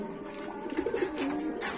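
Racing homing pigeons in a loft cooing softly, a few low rolling coos over a steady background hum, fairly close.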